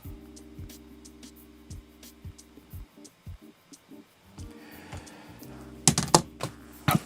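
Close, irregular clicking as someone types on a computer keyboard in short bursts with pauses, joined near the end by a few sharper, louder clacks, against a faint electronic hum and no talking.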